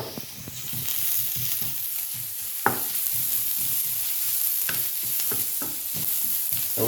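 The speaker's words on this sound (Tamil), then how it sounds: "இதில் நாங்கள் வெங்காயம் வதங்கி கொண்டு இருக்குது" Sliced onions and crushed garlic sizzle in hot oil while a spoon stirs them, a continuous close hiss broken by scraping strokes and a few sharp knocks against the pan, with no talking.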